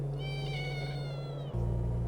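One long, plaintive meow from a cat in the video game The Cardinal Park Case, sliding downward over a constant low drone, with no voices.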